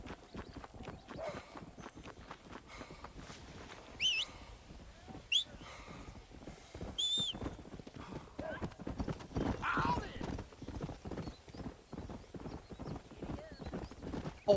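Horse hooves in the Red Dead Redemption video game: a steady clip-clop of galloping, with a few whinnies and occasional birdsong, under quiet talk.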